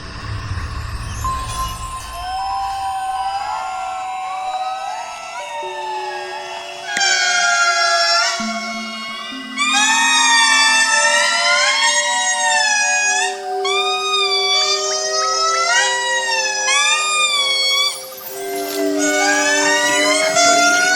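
Indri in Madagascar give loud, wailing calls that rise and fall in long siren-like swoops, several voices overlapping in a sustained chorus that swells in bursts.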